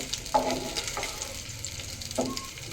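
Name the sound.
stirring dum aloo in a pan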